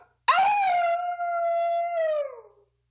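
A single person imitates a dog's howl, one long sustained wavering tone that rises sharply, holds steady, then fades out over about two seconds.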